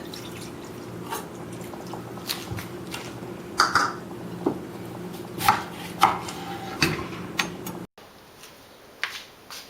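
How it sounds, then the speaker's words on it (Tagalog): A knife chops through a lemon on a cutting board, a series of irregular taps and knocks at close range, with faint dripping and kitchen noise in between. "Lori, pakihiwa ang lemon at pakipiga sa karne."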